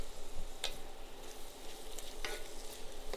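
Onions sizzle softly in a pan for a spicy sambal garlic onion bacon cheeseburger, a steady gentle crackle with a couple of brief stirring scrapes.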